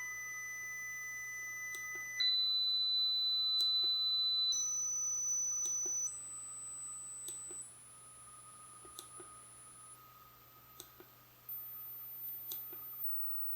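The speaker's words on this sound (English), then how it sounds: "connect the buzzer" A sequence of pure electronic beeps from a buzzer driven by a micro:bit, each a steady tone stepping through different pitches, with faint clicks between them and no talking.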